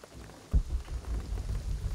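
Steady rain in the video game Shadow of the Tomb Raider, a soft rushing patter with low rumbling underneath that swells after a brief quieter start, fairly faint and without speech.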